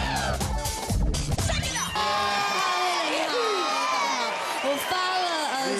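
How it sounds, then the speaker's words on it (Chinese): Studio audience of a Taiwanese variety show cheers and shouts as a new female contestant is introduced, a loud, bright crowd burst with whoops that holds steady after an opening crash and music, mixed with some voices. "让我们欢迎最性感的温小兰。"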